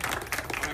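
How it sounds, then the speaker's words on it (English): Brief, moderate audience applause at a stage event, a short spatter of clapping lasting under a second and mixed with faint voices. "he deserves a big round of applause, right?"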